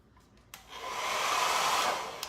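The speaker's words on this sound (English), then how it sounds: "So we're gonna use my hairdryer." A hair dryer switches on after a brief pause and blows on its low setting with a steady, loud whooshing hum, close by.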